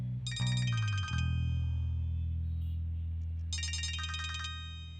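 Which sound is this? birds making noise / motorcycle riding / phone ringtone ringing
phone ringtone ringing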